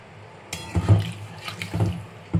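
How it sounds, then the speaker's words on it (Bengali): Water poured into a cooking pan over well-fried ingredients for a Bengali home-cooked dish, splashing in a few uneven bursts with low gurgles, nearby and moderately loud, no talking. "এবার একটু পরিমাণ মতন জল দিয়ে ঢেকে দেবো।"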